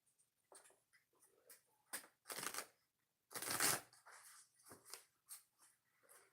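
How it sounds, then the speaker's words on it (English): Oracle cards are shuffled by hand in quick riffling bursts and soft slides, close and clear, with brief taps and pauses between. "One shuffle."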